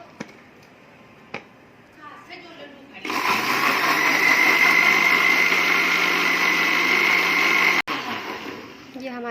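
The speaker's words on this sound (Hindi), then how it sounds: "ब्लेंड कर लेते हैं।" Faint clicks and handling come first, then a blender whirs loudly and steadily for several seconds, blending a sugar-sweetened fresh drink, before cutting off abruptly. The blender then briefly restarts.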